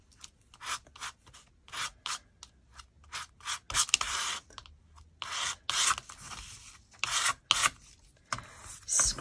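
Paint is scraped off a surface with repeated short, raspy strokes in an uneven rhythm, close up and fairly quiet, with no talking.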